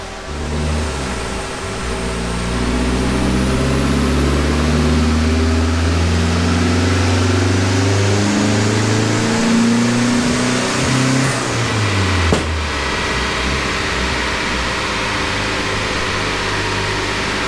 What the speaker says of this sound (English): It just breaks up like a little bit of a miss as the revs are building.